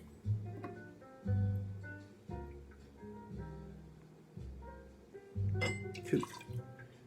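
Vodka is poured for a vodka martini in a few short glugging bursts with small drips between them, faint and close, with no talking.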